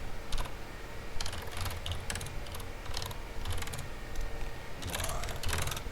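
Clusters of quiet keystrokes on a computer keyboard, short bursts of clicking separated by pauses, fairly close but faint.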